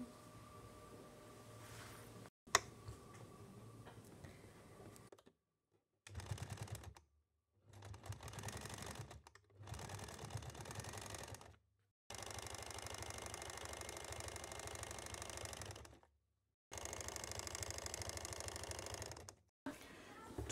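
A sewing machine stitches a two-kali Patiala salwar in short whirring bursts of a few seconds each, separated by brief silences, running close and moderately loud.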